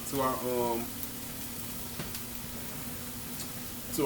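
Mirepoix with fresh garlic paste sizzles steadily in a pan for stuffed peppers, a soft continuous hiss with occasional ticks, a voice speaking over it at the start.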